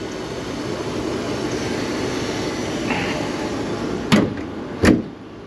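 A 1989 Ford LTD Country Squire's engine idles smoothly and quietly at close range, a soft low rumble with no knocks, broken near the end by two short sharp clunks.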